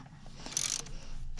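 A ratchet tightens the thermostat housing bolts on a 4.3 engine in a Bravada, giving a quick faint run of metallic clicks lasting about a second.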